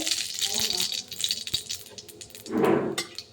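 Radhuni spice seeds dropped into hot oil in a wok, with rattling and clattering that swells into a loud burst of sizzle near the end.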